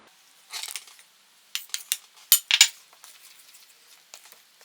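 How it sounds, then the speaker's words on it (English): A mixing spoon stirring plain flour into dough in a bowl, with sharp scattered scrapes and knocks against the bowl in short bursts between quiet pauses. "you want to slowly stir in your plain flour"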